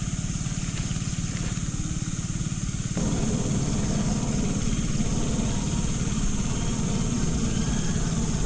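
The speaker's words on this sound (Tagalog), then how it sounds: "huwag lang papatayin yung makina" A diesel engine left idling, a steady low rumble that steps up louder about a third of the way in and then holds a constant, close drone with no talking over it.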